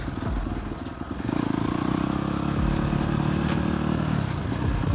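Honda CRF dirt bike ridden on a motocross track, its engine a loud, continuous close-up drone that rises in revs and surges steadily throughout, with rattling clatter and no talk.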